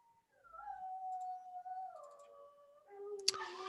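A small pet dog howls and whimpers in long, wavering tones, rising and falling across several drawn-out cries, fairly faint indoors, ending with a brief click and a short louder burst.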